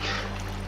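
Water poured from a bucket in Minecraft makes a short, steady gush and splash, fairly loud and close, with nothing else over it.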